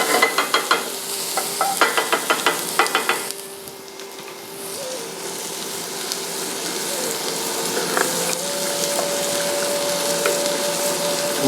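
Sausage and zucchini sizzle in a pan with a steady, close frying hiss, opening with a run of sharp clinks and scrapes that give way to continuous sizzling.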